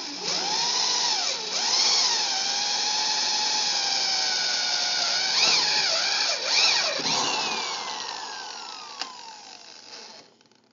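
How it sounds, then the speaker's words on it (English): A power drill fitted with a hole saw bit cuts a hole through the top shelf, its high whining motor steady and loud, dipping and wavering as it bites, then winding down toward the end. "So let's drill a hole."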